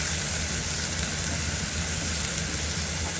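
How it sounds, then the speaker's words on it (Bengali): Onion and green chili paste sautéing in a pan for a tuna fish curry, a steady, even hiss of frying that runs continuously at moderate loudness with no talking over it. "এখন ভালোভাবে কষিয়ে নেব"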